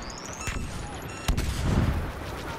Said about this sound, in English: Everything's exploding like Michael Bay!